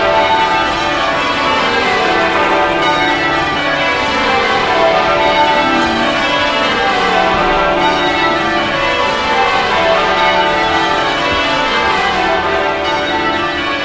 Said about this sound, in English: The bells ring out